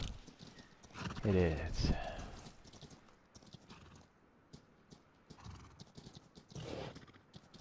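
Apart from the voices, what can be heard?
horses neighing and hooves clopping in video game Rust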